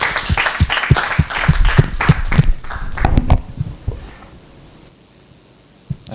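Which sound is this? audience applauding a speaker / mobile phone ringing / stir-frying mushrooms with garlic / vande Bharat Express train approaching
audience applauding a speaker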